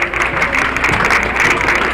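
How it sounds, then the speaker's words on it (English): Audience applause for a band at the Battle of Plattsburgh parade, a steady, dense wash of clapping that holds at full loudness for the whole stretch, with no voices rising above it. "a big round of applause, ladies and gentlemen"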